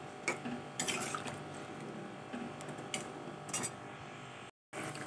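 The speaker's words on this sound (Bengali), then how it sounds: "এবার দেখো আমি পরিমাণ মতো জল দিয়ে দিচ্ছি" Water is poured into an eggplant and potato curry in the pan, a faint, steady wash of liquid with a few soft clinks, quiet and close, ending in a brief gap of silence.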